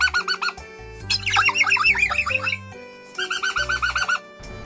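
Parrots kept as pets call in repeated bursts of bright chirps and harsh squawks, close and loud, with brief pauses between phrases.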